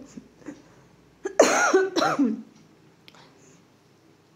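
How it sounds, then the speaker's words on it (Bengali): A quiet room, then two loud, raspy coughs in quick succession close to the mic, fading back to near silence. "ভয়েস ওভার দিতে যখন বসেছে প্রচণ্ড কাশি পাচ্ছিল"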